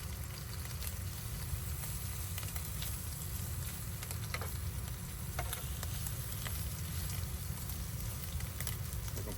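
Bacon and chorizo fry on a camp cooker, giving a steady, close, even sizzle with faint crackles and no talk.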